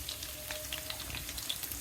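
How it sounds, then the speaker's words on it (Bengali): Chopped onion frying in hot oil for a Bangladeshi desi chicken jhol, giving a steady soft sizzle with faint crackles, close and fairly quiet, with no talk. "দিয়ে দিব পেঁয়াজ কুচি।"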